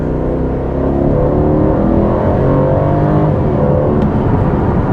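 Aston Martin Vantage with a 500 hp V8 AMG engine accelerating at part throttle, a loud, continuous engine roar with rising revs heard from inside the car, with no talk.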